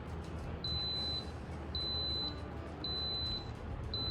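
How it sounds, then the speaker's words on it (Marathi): An electric rice cooker beeping in four evenly spaced, sustained high tones, each about half a second long, over a faint background hum with no talking. "तसं बीप बीप आवाज सुद्धा येतो"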